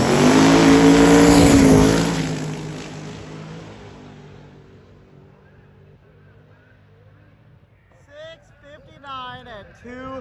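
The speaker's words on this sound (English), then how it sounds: "Got a burnout. Let's see if he can get a pass in." A drag car making its pass at Hot Rod Drag Week 2024, running on a freshly swapped transmission, roars loudly up close for about two seconds and then fades into the distance, with people talking near the end.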